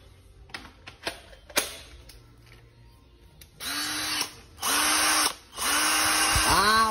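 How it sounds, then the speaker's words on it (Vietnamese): A Hukan 522 three-function cordless drill with a 13 mm chuck, fitted to a standard battery, clicks a few times and then whirs up in three loud, close bursts, its pitch rising and falling as the trigger is squeezed and released. "khoan 3 chức năng đầu kẹp 13 ly của Hukan, Hukan 522"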